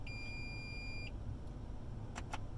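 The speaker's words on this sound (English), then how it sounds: "when you're backing up, they will beep to alert you if you're about to hit anything" A 2012 Toyota Tundra SR5's rear parking sensor gives a sustained high electronic beep for about a second inside the cab, followed later by two short faint chirps over a low engine hum.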